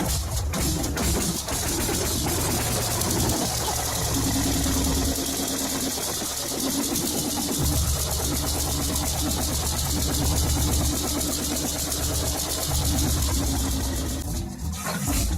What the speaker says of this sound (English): SUPERLANDINI tractors powered stationary sawmills with their powerful engines operating for hours on cheap, locally produced heavy oil